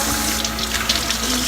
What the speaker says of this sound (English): Wait, wash our hands.